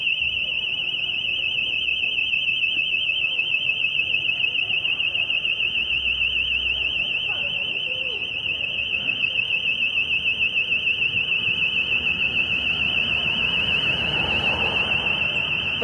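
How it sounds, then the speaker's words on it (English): Alarms go off near the post office in the market town of Mold, North Wales, a piercing steady electronic tone that sounds throughout, with street noise and a person talking over it. "Somewhere there, the post office, the alarms are going off."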